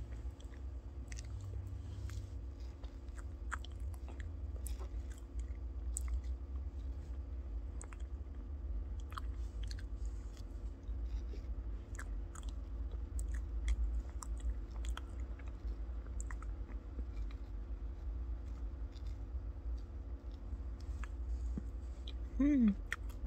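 Soft close-up chewing of pistachio cake and a blueberry macaron from Starbucks, a steady run of faint moist crunches and clicks over a low room hum, with a brief voice near the end.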